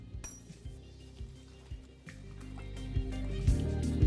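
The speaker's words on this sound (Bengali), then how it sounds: "এরপর স্বাদ মতো নুন দিয়ে এটাকে ভালো করে একবার আমি মিশিয়ে নেব" A spoon clinks and scrapes in a bowl while stirring a chicken marinade of ginger paste, yogurt and salt, giving repeated close metallic taps over a low, steady tonal hum.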